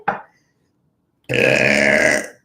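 A single loud, drawn-out burp rumbles for about a second after a short, sharp sound and a pause of near silence.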